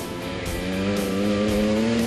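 A motorcycle engine revs and drones steadily up close on a trail, its pitch climbing slightly as it runs.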